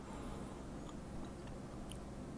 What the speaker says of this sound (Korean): 한입 베어 물어서